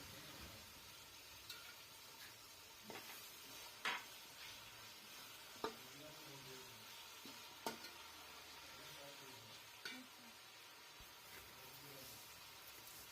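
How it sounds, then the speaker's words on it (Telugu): Tomatoes, coriander and mint being stirred into an egg biryani pan, with a soft steady sizzle and a few sharp spoon-against-pan scrapes and taps spaced through, faint and close. "ముందుగానే తరిగి పెట్టుకున్న టమాటోలు, కొత్తిమీర, పుదీనా కూడా వేసి బాగా కలుపుకోండి"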